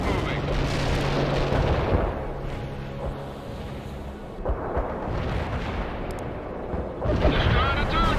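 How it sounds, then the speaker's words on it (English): Incoming enemy mortar and artillery fire in the World in Conflict campaign battle for Pine Valley, heavy booms and rumbling blasts rolling on through the scene with a louder burst near the end, mixed under game radio talk. "You have incoming fire, Lieutenant Parker. You should take out those enemy mortars ASAP."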